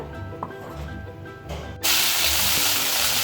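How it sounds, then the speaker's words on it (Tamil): Garlic drops into hot oil in a pan and a loud, steady sizzle erupts, continuing strongly after a quieter stretch of kitchen sounds. "அது போட்டதுக்கப்புறம் பூண்டை வதக்கிக்கோங்க"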